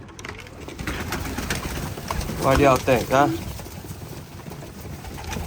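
Racing pigeons give a couple of close, throaty coos in the middle of the clip over steady background noise, while someone speaks casually nearby.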